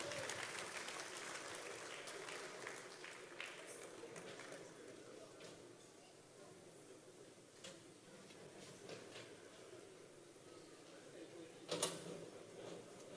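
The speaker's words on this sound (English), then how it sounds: "A round of applause, please, for selecting the awards." An audience at an awards ceremony in Bayelsa applauds in soft, distant, sustained clapping that thins out over the seconds, with a few louder claps near the end.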